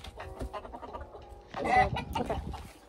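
Chickens clucking close by in short choppy bursts, growing louder and busier near the end.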